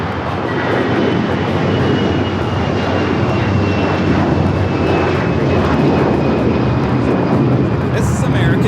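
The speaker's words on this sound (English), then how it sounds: "This is American Airlines 753 taking off to Atlanta on the A321." An American Airlines Airbus A321 takes off at Los Angeles LAX, its engines a broad continuous roar heard from a distance, steady throughout.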